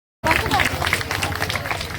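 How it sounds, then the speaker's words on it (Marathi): Audience applause fills a crowded community gathering, a Haldi-Kunku and Paithani game event in Panchsheel Nagar, New Panvel. After a brief silence, dense, steady clapping rises and holds, mixed with crowd voices. "सगळ्यांच्यासाठी आपण टाळ्या वाजूया"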